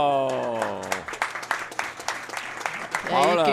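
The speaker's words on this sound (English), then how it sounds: "you can hear the crowd like that one" Spectators at the Boston Open racquetball doubles final clap after a long rally, a patter of applause with a commentator's voice speaking over the start and end.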